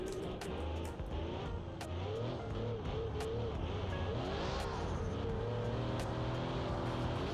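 Car engine in BeamNG.drive on a Grand Canyon jump course, a steady, loud revving drone that rises and climbs in pitch as the car accelerates, with sharp clicks and knocks scattered through it.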